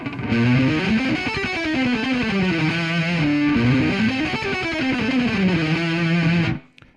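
A distorted electric guitar plays a continuous flowing run of notes grouped in threes, loud and close, with effects-laden tone, then stops abruptly.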